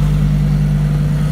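A loud performance car passing through Monaco, its engine holding a steady, droning note with no break, close and filling the short moment.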